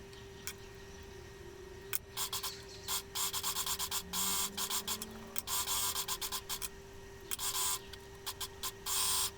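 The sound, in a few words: overlocker sewing the edge of a dress facing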